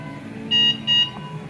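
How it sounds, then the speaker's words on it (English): Two short electronic beeps in quick succession, steady and high-pitched, over a low background hum, at Epcot. "Is that you beeping at me?"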